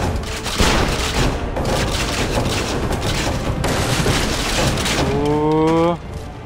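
Heavy cannon fire booms without pause in the game Assassin's Creed Revelations during a fortress defense, a loud, dense barrage that holds for several seconds before a tonal game sound takes over and the noise cuts off.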